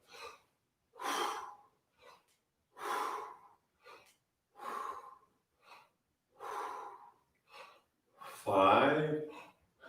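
A sequence of forceful exhaled breaths sounds in short, evenly spaced bursts close to the microphone during a vocal breathing exercise, ending with a longer breathy push.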